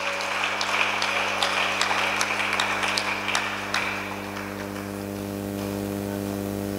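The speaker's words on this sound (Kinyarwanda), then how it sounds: "Reka dukomere Yesu amashyi menshi" Applause from a congregation during a church service: a burst of scattered, lively clapping for about four seconds that fades out, leaving a steady electrical hum.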